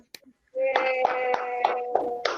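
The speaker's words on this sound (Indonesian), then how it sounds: "tepuk tangan untuk kelompok 1" A short burst of classroom applause for a presenting student group, several claps in a steady rhythm over a sustained tone, fairly close and moderately loud.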